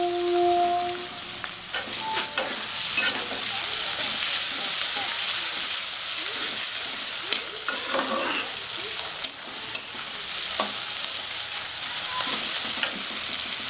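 Chopped onion, garlic and green chili sizzle in a pan for Bengali-style chilli paneer, with a continuous bright frying hiss and occasional scraping stirs close by.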